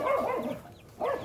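Dogs barking and yipping indoors at a moderate level, two short bursts of barks with a brief lull between them, no talking.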